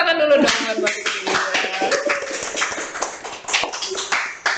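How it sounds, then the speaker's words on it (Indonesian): An audience clapping hands during a talk show, a loose patter of claps that rises and falls unevenly, with voices talking over it throughout. "Kita tepuk tangan dulu dong buat Mbak Fitri."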